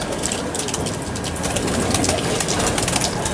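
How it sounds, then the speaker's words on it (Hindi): A Firozpuri pigeon coos softly amid a dense, steady wash of outdoor noise, the calls close but partly buried, with no talking. "ये फ़िरोज़पुरी कबूतर है जी"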